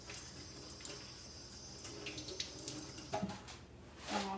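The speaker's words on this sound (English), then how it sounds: "All right, I just wash my hands." Tap water runs into a kitchen sink while hands are washed during home meal prep, a steady faint splashing stream with a louder gush near the end.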